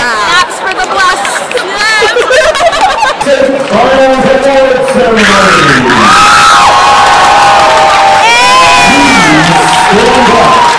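Loud, lively crowd at a state final round of a performing arts festival, with overlapping shouts, whoops and high-pitched excited voices cheering and chattering close by.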